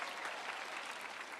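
Audience applause at a Limuru Girls' School centenary celebration, a steady, continuous clapping from a large crowd filling the moment without a break.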